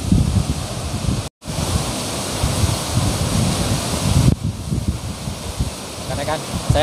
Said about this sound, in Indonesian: Saya ingin sekali turun di air terjun ini.